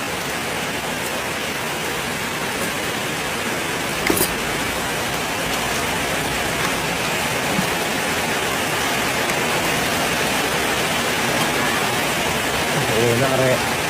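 Heavy rain falls steadily as a dense, even hiss through the whole stretch during a rainy evening meal at home, with a faint knock and some quiet background sounds briefly rising above the downpour.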